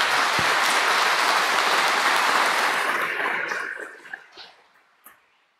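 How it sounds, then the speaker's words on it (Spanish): Loud congregational applause during a Sunday Eucharist in a church, sustained for about three seconds before thinning into a few scattered claps and fading out. "Le damos un aplauso a él."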